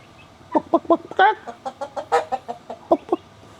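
A hen clucks in a quick series of short, nasal calls, close and fairly loud, with one drawn-out squawk partway through, in the Philippines.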